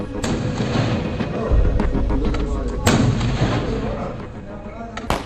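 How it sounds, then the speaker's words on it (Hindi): Bursts of gunfire crackle and thump over a dense, noisy background during an attack on militants in Nagrota, with a few sharper shots standing out amid continuous rumble and faint voices. "गोलियों की बौछार शुरू हुई"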